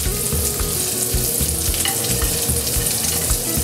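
Food searing in a hot pan with hazelnuts added, a dense, loud, steady sizzle close by with occasional stirring scrapes and no talk.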